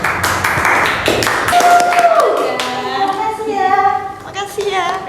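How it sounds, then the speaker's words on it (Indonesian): A small group of people on a campus claps briefly for a newly named festival chair, short bursts of hand claps mixed with chatter and a voice speaking over them. "Boleh tepuk tangan saya?"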